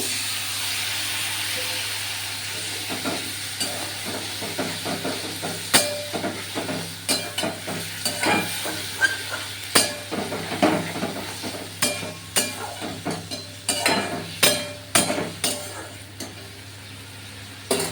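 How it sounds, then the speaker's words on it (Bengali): Fried cauliflower is stirred with fish and spices in a hot pan, giving a steady sizzle with repeated scraping strokes that grow sharper and more rhythmic toward the end. "ভাজা ফুলকপিগুলো মাছের সঙ্গে মশলার সঙ্গে একটু ভালো করে নাড়াবো"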